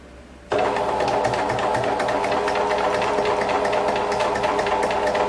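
A sewing machine stitching thick fabric starts up abruptly and runs at a steady, rapid mechanical chatter, close and loud throughout.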